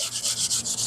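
Scrubbing dust and grease off a Chevy C20 engine part before painting, a steady back-and-forth rubbing with a bright hiss that swells in regular strokes, close and alone.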